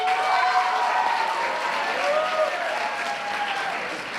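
At a spring sports awards banquet, a crowd applauds in a full, sustained burst of clapping that fades slightly toward the end.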